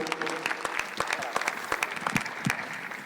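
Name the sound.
round of applause at a fan Q&A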